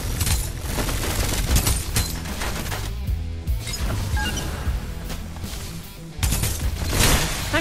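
Dense gunfire in the Farlight 84 video game deathmatch, rapid overlapping shots and impacts running almost continuously, loud and busy with a brief lull midway.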